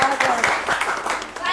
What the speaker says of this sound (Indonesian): Oke, boleh tepuk tangan ya.